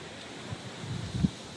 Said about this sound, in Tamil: சரியான காத்துங்க